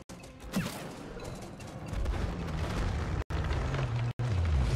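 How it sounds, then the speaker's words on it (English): A roaring wall of fire in the video game It Takes Two, a dense, continuous rumbling blaze that swells louder midway and holds steady, broken by two brief dropouts, with no talking over it. "Here's the wall of fire"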